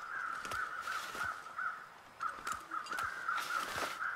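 Crows caw repeatedly outdoors in a series of sharp, harsh calls at an uneven rhythm, moderately distant, over a quiet background with no talk.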